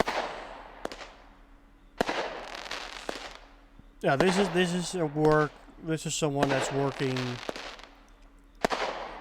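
Crackling fireworks from a Brothers Heavyweights 30-shot cake in the game Fireworks Mania: sharp bursts and dense crackle in short clusters, with someone talking over them.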